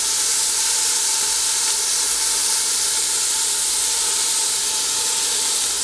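Beef searing in a Dutch oven over a small gas stove gives a loud, steady broadband sizzle and hiss, unbroken and close for the whole stretch.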